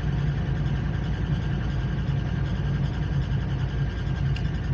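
A Ford car engine with an exhaust leak idling with a steady, low rumble, running evenly throughout without any talking.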